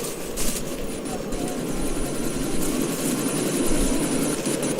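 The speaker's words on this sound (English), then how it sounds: "you need to disable that chopper" A helicopter in the Deus Ex: Mankind Divided video game roars steadily overhead during a sandstorm, a dense continuous rotor and engine drone with brief overlapping game voices.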